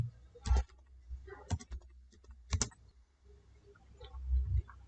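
Keystrokes on a computer keyboard while typing into a web browser search, a few clustered clicks and taps close to the mic, irregular and quiet, with no talking.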